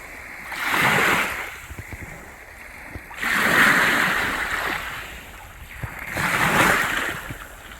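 Gentle waves wash onto a calm beach in Michigan's Upper Peninsula, three slow surges rising and falling a few seconds apart, with light wind noise in between.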